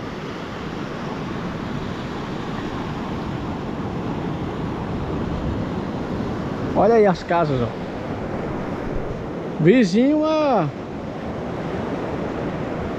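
Sea waves washing against the shore at low tide at Baía Formosa beach in Rio Grande do Norte, Brazil, a continuous windy roar of surf, with someone talking briefly twice over it.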